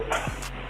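A dog gives one short bark up close, a quick single yelp over low background noise.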